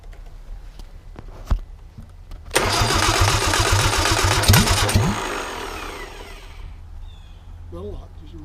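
A 1959 Triumph TR3 engine on a stand, choke applied, is cranked and catches after a few faint clicks. It runs loud and rough for a couple of seconds, then dies away and leaves a quiet tail.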